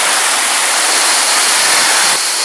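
Steady, loud roar of a waterfall near Çaylak and Suuçtu falls, a dense continuous rush of falling water filling the whole clip with no voices.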